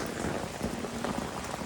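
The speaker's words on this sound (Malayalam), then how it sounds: "മഴ ഇപ്പോഴും പെയ്തുകൊണ്ടിരിക്കുക." Rain falls at a rock-cut cave temple of solid granite, a soft continuous patter of drops on stone and surfaces, steady and fairly faint with no other sounds.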